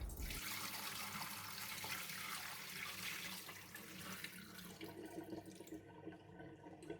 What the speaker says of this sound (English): Repeat for the second wash. While washing, gently agitate the rice.